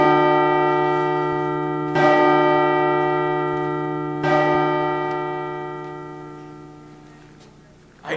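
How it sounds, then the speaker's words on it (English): A large church bell tolls slowly, three deep resonant strikes spaced about two seconds apart, each ringing out with a long decaying hum, heard alone. "The bell invites me."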